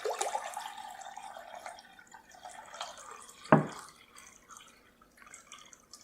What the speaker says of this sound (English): I want to pour off a quart of our 1 gallon of water.